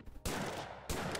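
A gunshot aimed at a box in the video game Lovecraft's Untold Stories comes as two loud, dense blasts in quick succession, each filling the sound with a heavy, sustained roar.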